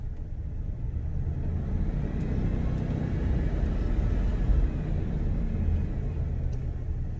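A 1978 Oldsmobile Cutlass, a barn find, runs in low gear with a steady low engine rumble. The sound is continuous and fairly close and holds even throughout, with no voices.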